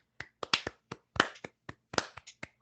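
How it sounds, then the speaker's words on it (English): Applause at the close of a performance of Shakespeare's The Tempest: a small, sparse handful of claps, uneven and fairly close, about a dozen sharp slaps over a couple of seconds. "we're freeing you with our applause, Mr. Prospero"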